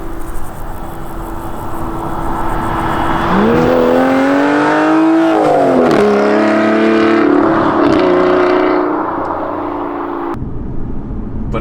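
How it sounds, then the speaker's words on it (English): An Aston Martin Vanquish S V12 roars loudly as it accelerates hard, the engine note climbing through the revs, dipping at a gear change, then rising again before cutting off abruptly. "You've got the V12. It sounds amazing."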